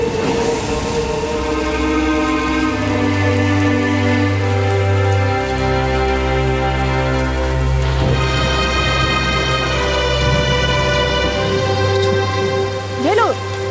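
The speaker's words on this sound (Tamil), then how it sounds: "மழை கொட்டுது." Heavy rain pouring down, a dense steady hiss running throughout beneath loud sustained tonal music and a low drone.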